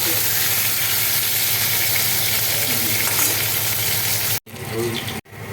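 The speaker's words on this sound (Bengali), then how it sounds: "আলুটা সুন্দর করে ভেজে নেবো।" Potatoes fry in hot oil with a loud, dense sizzle and crackle, briefly cut twice near the end, with no voices over it.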